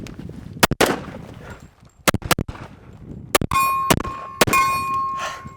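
1911 pistol shots fired at steel targets: sharp, loud cracks in quick pairs and bursts, several followed by a bright, ringing clang as the rounds strike the steel.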